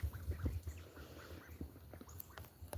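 Ducks quack quietly outdoors in the early morning, with soft scattered calls and low murmuring clucks at close range in an otherwise calm setting.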